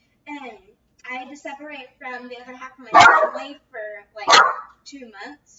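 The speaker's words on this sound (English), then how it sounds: "sorry about the dog in the background" A dog barks twice in the background at home, two sharp loud barks cutting through a person speaking steadily in the foreground.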